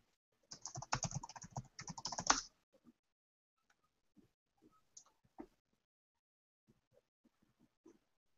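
Typing on a computer keyboard in a quiet room, a rapid burst of close, clicky keystrokes for about two seconds, then a few sparse isolated taps and light knocks amid near silence.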